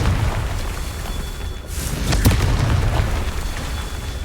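A Confringo fire spell explodes in Hogwarts Legacy as a loud, deep boom with a sharp burst at its peak. It rumbles over steady low background noise from the game.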